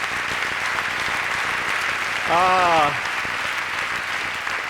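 Audience applause at a Quebec television awards gala, the Gala Artis, rolls steadily from start to finish, with a brief voiced exclamation rising over it midway.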